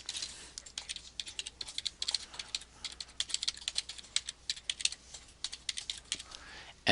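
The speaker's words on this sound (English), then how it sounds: "type in my email address" An email address is typed on a computer keyboard, producing a steady, close run of quick keystrokes clattering at a moderate level with brief irregular pauses and no talking.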